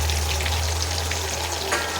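Finely chopped onions frying in a mix of white oil and butter, a loud, dense, steady sizzle heard close up with no talk, accompanied by a low constant hum underneath.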